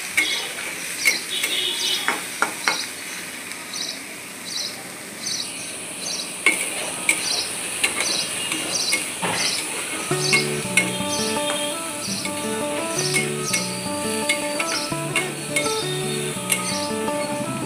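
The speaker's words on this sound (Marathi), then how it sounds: "आता आपल्याला कांदा भाजून घ्यायचा आहे" Two small chopped onions are frying in a pan toward brown, with a soft sizzle and repeated clinking, scraping strokes of stirring; steady music comes in about halfway and continues beneath the cooking sounds.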